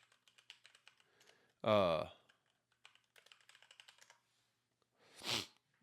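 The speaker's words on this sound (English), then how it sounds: "I typed in my full government name too" A name is typed on a computer keyboard in quick, light clicking runs, broken twice by loud bursts of voice.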